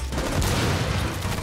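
Rapid automatic gunfire rattles continuously in a shooter video game, with dense overlapping shots and booming low end and no pauses.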